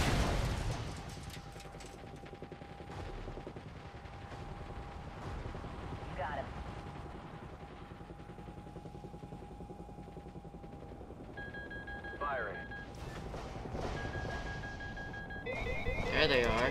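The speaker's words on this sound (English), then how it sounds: "Firing missiles." Missile fire from a helicopter in Call of Duty: Ghosts: deep whooshing launches and booming impacts over a constant rotor drone, with radio chatter and electronic warning tones.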